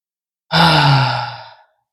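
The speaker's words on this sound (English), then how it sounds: "So, we're going to center, deep breath." A single deep sigh-like breath, close and clear, drawn in and released over about a second during a calm centering moment, with no talking.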